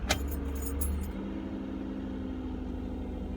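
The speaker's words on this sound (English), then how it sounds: "So let's crank the car and it should jump up to 14 volts or so." A 2010 Toyota Camry engine cranks briefly and catches, a short burst at the start settling into a steady low idle hum, fairly quiet and heard alone.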